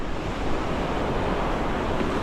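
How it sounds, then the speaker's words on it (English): Ocean surf crashes on a popular surfing beach at Tamarindo as a steady, dense roar of breaking waves, loud and continuous with no pauses. "The ocean is wild today."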